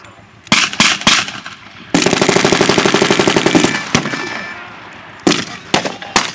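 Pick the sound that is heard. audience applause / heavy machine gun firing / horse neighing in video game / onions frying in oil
heavy machine gun firing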